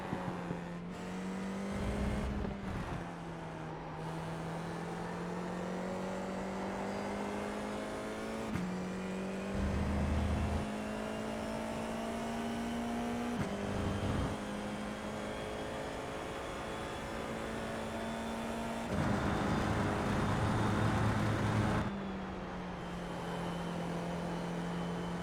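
FIA F4 single-seater race car lapping Silverstone, its engine droning loudly and steadily with rising pitch through the gears, brief dips as it shifts or lifts under braking, then pulling hard again, close and continuous throughout.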